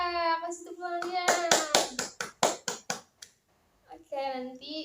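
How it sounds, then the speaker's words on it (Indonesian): A seventh-grade class claps in rhythm for the best group, about a dozen sharp claps in a steady beat, close and loud. Children's and adult voices are heard before and after the clapping. "Kasih tepuk tangannya."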